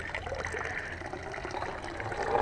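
Water pours steadily out of a homemade pool heater, a continuous close trickle and splash that swells slightly toward the end.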